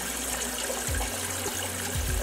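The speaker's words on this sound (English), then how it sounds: "You can hear the stream of water" Water trickles in a steady stream, heard alone at moderate level with a broad continuous wash, occasional low thumps and a faint underlying hum, as though near a computer system whose fan runs at full speed.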